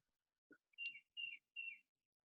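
Birds chirp outside an open window, with a short call followed by three bright, repeated whistled phrases at a moderate distance, faint overall and with no talk.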